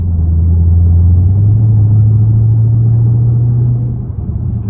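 Straight-piped Dodge Scat Pack exhaust holding a loud, deep, steady rumble close by, easing off near the end with a faint pop.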